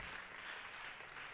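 A church congregation claps during a healing service, producing a quiet, even wash of applause with no break over the short stretch.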